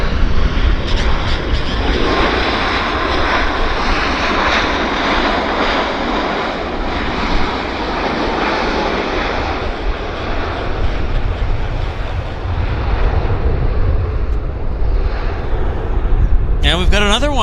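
A Jazz airliner takes off at Vancouver airport, its engines roaring loud and steady for the whole stretch, with a voice speaking over the din.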